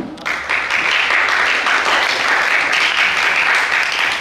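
A huge round of applause at a live canvas painting competition for a performance: loud, dense clapping from a nearby crowd that starts abruptly and continues steadily without a break.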